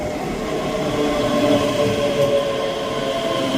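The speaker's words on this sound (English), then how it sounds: "Fast train approaching." A fast train passes through Edinburgh Haymarket station with a loud, steady rumble and rolling wheel noise close by, a faint high whine over it, and no talking.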